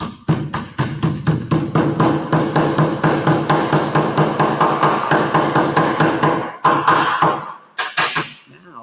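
Rapid hammer blows flatten a sheet metal hem, dozens of sharp metallic strikes in a fast, fairly even rhythm, close and loud, slowing into a few scattered hits near the end.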